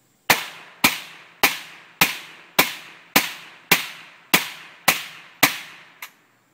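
An AK47 rifle fitted with a Mystic suppressor fires ten evenly spaced, sharp shots at a steady semi-automatic pace. Each crack is loud and close and decays quickly, with the last shot a little softer.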